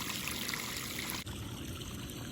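Water rushing steadily out of a saltwater pool filter during backwash, a continuous close pouring and trickling flow with a brief dip midway, no voices.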